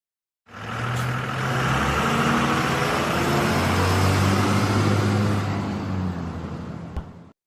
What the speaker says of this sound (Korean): 엔진이 굉음을 내며 깨어납니다.